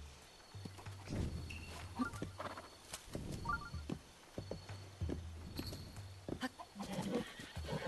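A horse in Zelda: Breath of the Wild whinnies and snorts in a few bursts over clip-clopping hooves, with game music and a faint voice beneath.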